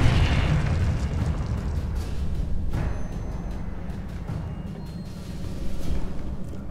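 A Confringo blast spell fired in Hogwarts Legacy, a deep rumbling boom with sustained low roar and a sharper burst near the third second, set in a forest battle against a guardian boss.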